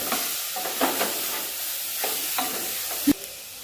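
A spiced mixture of wild agave (ghaypat) greens sizzles in a hot pan as it is stirred and mixed, with a soft frying hiss and periodic scraping strokes of a spoon, ending with one sharper knock.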